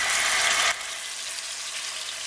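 Lamb chops go into hot oil, giving a loud, bright hiss that drops after the first moment and settles into a steady, even frying sizzle up close.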